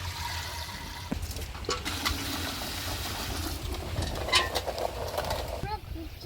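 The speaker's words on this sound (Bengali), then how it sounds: "আমি এখন এগুলো ধুয়ে নেবো" Water runs and splashes steadily as wild gooseberries are rinsed outdoors for pickle, a continuous broadband wash with small clatters, the rushing stream dominating throughout.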